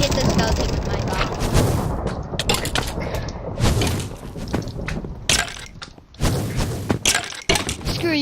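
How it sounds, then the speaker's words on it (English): Explosions and crashing impacts from the Minecraft minigame Super Smash Mobs, as a bomb blast hits a skeleton mob; a dense run of loud booms, cracks and thuds in quick succession. "I hit the skeleton with my bomb"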